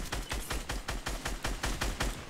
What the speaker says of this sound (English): Whoa, I got shot in the back.